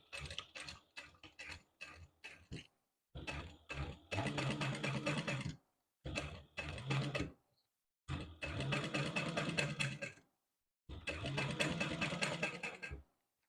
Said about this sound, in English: And we're going to backstitch.